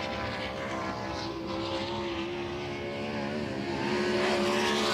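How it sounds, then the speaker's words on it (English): World of Outlaws sprint cars racing at Volusia Speedway Park dirt oval, a loud sustained engine roar with rising and falling pitch as cars pass, continuous for the whole stretch. "Second lap time for Bryce Lucius is better."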